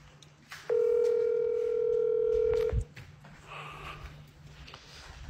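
A telephone dial tone sounds clearly for about two seconds as a steady, loud, single pitched hum, then stops with a soft click and gives way to quiet room noise and faint voices.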